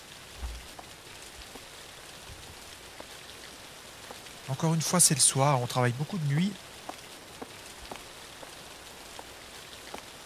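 Steady heavy rain in the video game The Caregiver hisses in the background throughout, with a person speaking French for a couple of seconds midway.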